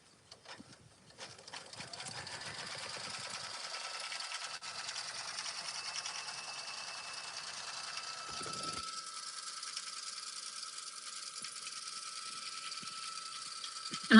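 An embroidery machine stitches the background fill of a patch at high speed, a steady, fast, faint mechanical whirring and ticking that holds evenly throughout, with no talk.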